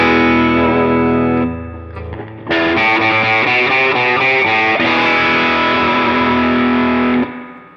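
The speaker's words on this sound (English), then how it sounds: "Foot switch 2 is going to be a rat distortion." An electric guitar through a Line 6 HX Stomp with a Rat-style distortion preset plays loud, sustained, saturated chords, then a short pause and a choppier strummed passage, ending in a held, ringing chord.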